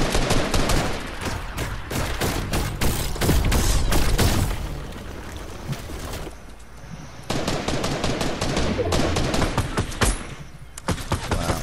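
Rapid automatic gunfire from Fortnite, loud and close, in dense crackling bursts with a short lull partway through before the shooting resumes hard.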